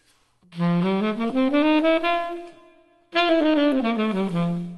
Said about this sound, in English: they often refer this to as the bebop scale